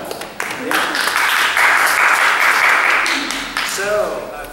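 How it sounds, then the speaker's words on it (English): An improv comedy theater audience claps and cheers, producing a loud, sustained roar of applause mixed with shouting voices that swells in the middle and then eases off. "Yes, you can clap."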